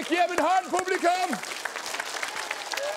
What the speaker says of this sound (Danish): Giv en hånd, publikum.